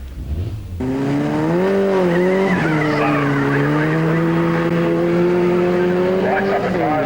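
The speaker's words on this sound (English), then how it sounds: "Lights up the tyres, lots of wheel spin, gets away to a fairly quick start." A race car at the 1993 Australian Hill Climb Championship, One Tree Hill, Ararat, launches hard with heavy wheel spin, a loud sustained tyre squeal and engine drone holding steady close by, with a commentator talking over it.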